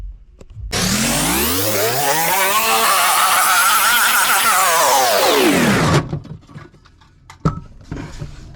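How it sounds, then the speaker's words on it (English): A battery drill with a 127mm metal hole saw grinds loudly through a metal turret plate for about five seconds, its pitch dipping and rising under load, then stops abruptly, followed by a clatter. "127mm metal hole saw for the turret plate, and a full battery in your drill"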